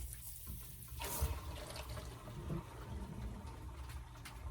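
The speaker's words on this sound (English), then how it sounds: "turn on this hose, and then the water should flush out through those through holes." Water from a hose rushes steadily through the through-holes of a boat's sea chest, a continuous close gushing and gurgling flow with no one talking.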